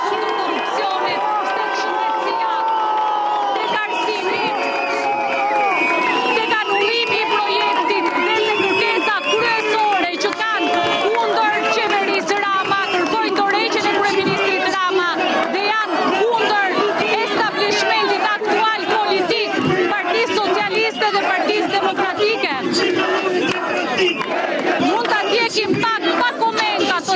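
An enthusiastic protest crowd roars continuously, with loud cheering, chanting voices and hubbub filling the scene throughout and no breaks.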